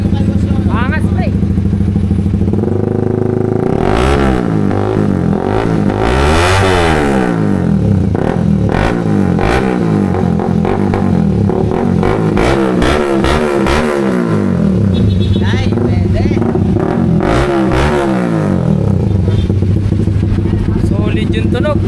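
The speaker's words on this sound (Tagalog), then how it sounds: "Sound check na, sound check. Pro liner sa Winner X." A Honda Winner X motorcycle fitted with a replica Pro Liner exhaust pipe revs repeatedly in loud, close bursts, its rising and falling engine note dominating throughout while someone briefly speaks over it.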